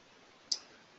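A single faint, sharp click of a computer mouse in a quiet room, heard alone.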